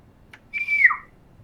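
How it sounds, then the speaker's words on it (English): A loud two-finger whistle sounds once, a shrill tone that slides down in pitch and lasts about half a second, preceded by a faint short chirp, with no talk. "She kind of like puts two fingers in her mouth and whistles."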